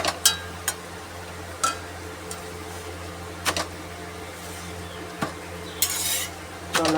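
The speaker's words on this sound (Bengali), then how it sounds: "আলু ভাজা বসিয়ে দিয়েছি শুকনো লঙ্কা কাঁচা লঙ্কা ফোড়ন দিয়ে।" Potatoes fry in a pan tempered with dried and green chilies, a faint steady sizzle broken by sharp metallic clinks and scrapes of a spoon against the pan, no voices.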